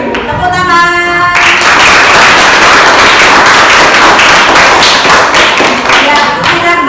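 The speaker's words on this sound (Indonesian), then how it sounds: "Tepuk tangan." A group of participants in a classroom training session claps hands, a loud, close burst of rapid, dense clapping that carries on for several seconds after a short moment of voices and tones.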